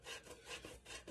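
Frozen block of butter grated on a grater, close-up rhythmic rasping strokes, about three quick scrapes in a short span with no talking.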